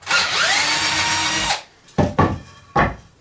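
A power drill whines steadily as it bores into wood for about a second and a half, then a few short bursts of drilling follow, drilling holes for a hanging shoe rack.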